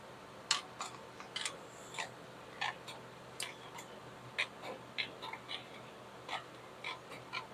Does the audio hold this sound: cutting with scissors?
yes